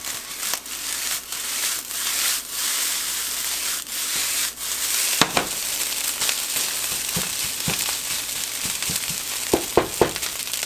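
Fried rice sizzles and crackles in a hot pan, a steady hiss broken by scraping stirs and sharper pops, heard close without speech.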